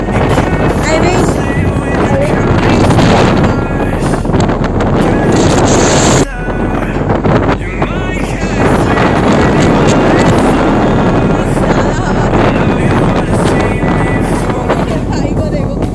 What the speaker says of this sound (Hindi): Just listen to क्या हवा चल रही है वाटर पे।